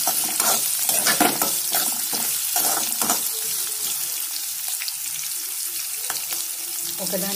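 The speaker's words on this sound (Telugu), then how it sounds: "అడిగించకుండా మధ్య మధ్యలో కలుపుతూ ఉండాలి." Ingredients for semiya upma being stirred and fried in a pan, a steady sizzle with a spoon scraping and clinking against the metal in irregular strokes, close and moderately loud.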